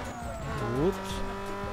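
Race car in Need for Speed Underground 2 speeding through narrow alleys, engine tone rising with a brief tire squeal swelling near the middle before settling back to a steady drone.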